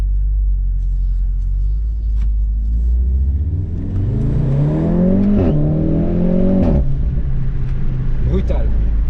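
A Volkswagen Golf 7 R fitted with an Akrapovic exhaust accelerates hard in race mode, its engine note climbing steeply from a low rumble through rising revs with crisp shift breaks, loud and close inside the car.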